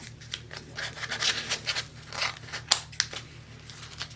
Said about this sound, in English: Then I slide my scissors in, trim it away.